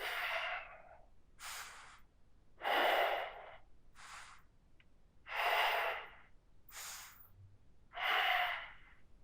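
Slow, deep yoga breaths during a beginner session, six or seven long inhales and exhales in an even rhythm, close and clear with quiet gaps between, no talk.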